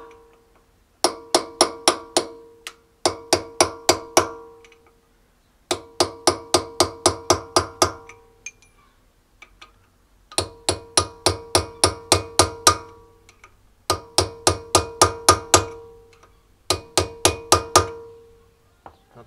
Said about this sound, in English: using a chisel and a hammer, we're just going to tap over the tabs just to lock it in place